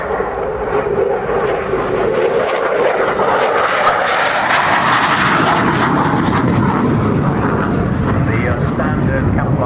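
A Royal Netherlands Air Force F-16 jet roars through a display flight at an airshow, its loud, sustained engine noise sweeping steadily overhead without a break.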